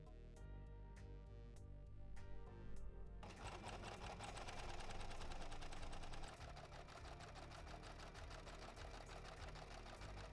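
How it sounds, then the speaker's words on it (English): An overlock sewing machine finishes fabric pieces: a few soft ticks, then a rapid mechanical chattering hum that runs steadily and close for several seconds, quiet overall. "I'm going to use the overlock for the first time to do all the pieces before I put them together."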